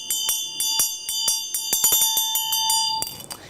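Small Tibetan Buddhist ritual bell struck over and over in an uneven rhythm, each strike ringing bright and metallic with sustained overtones. It is close and fairly loud with no speech, and the strikes crowd together toward the end.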